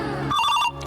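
A telephone rings close by with a short electronic ringtone burst of bright repeating tones, heard alone without talking.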